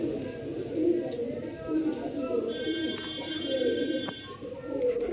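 Soft, repeated coos of Rampuri pigeons rumble low and close, heard under someone talking steadily.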